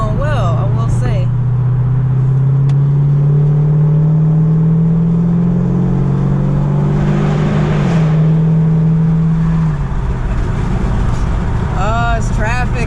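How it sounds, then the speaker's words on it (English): Tuned Camaro SS accelerating on the highway: a loud, steady engine drone rising in pitch over several seconds, then easing off, with road noise throughout and a brief voice near the end. "see if I can do a quick little highway acceleration"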